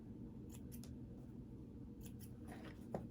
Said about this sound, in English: So just go along and cut a little bit of threads here and there.